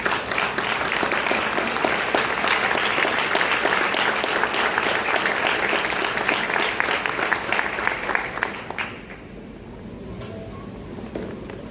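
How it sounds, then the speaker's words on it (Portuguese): A church congregation applauds during a Lord's Supper service, a long sustained roar of clapping that fills the room, then drops off abruptly near the end to quieter room noise. "dá uma linda salva de palmas para o Senhor Jesus"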